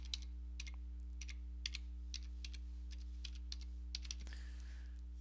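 Computer keyboard keys clicking as a password is typed, a steady scatter of light taps over about five seconds against a constant low electrical hum, fairly faint and close, with no talking.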